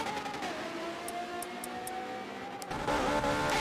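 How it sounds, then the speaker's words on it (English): Ferrari race car in a racing video game, its engine holding a steady high whine before swelling louder near the end as tires squeal faintly through a drift, all close and continuous. "This Ferrari does sound amazing there."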